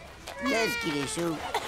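A cartoon cat from the animated series Titeuf meows in short pitched, gliding calls, with a voice speaking French over the same moment.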